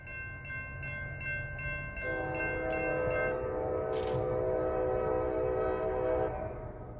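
A CSX local freight train passing in Watertown, New York, rumbling steadily close by as a loud, multi-tone horn sounds for about four seconds over the rolling noise, with no voices.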